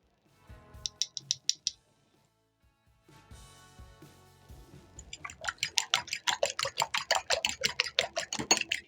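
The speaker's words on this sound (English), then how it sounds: "Whisk in the eggs" Eggs whisked in a bowl for an omelette, a brisk run of rapid clinking taps building up near and loud after a few quieter early strokes and a short pause.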